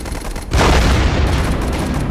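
A grenade bursts in the World War II game Warfare 1944 as a sudden loud boom that leaves a dense, rumbling roar of battle noise running on for nearly two seconds, with no talk over it.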